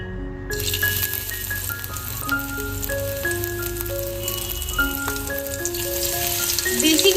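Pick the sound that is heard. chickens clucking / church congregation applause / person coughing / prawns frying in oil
prawns frying in oil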